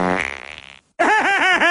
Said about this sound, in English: especially Peter when he's farting on her.